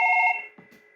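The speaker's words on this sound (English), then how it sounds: "It immediately moves the call over to this phone and it begins ringing." A Fanvil X6U SIP desk phone gives one short electronic ring that rings out briefly and then decays, followed by faint soft clicks.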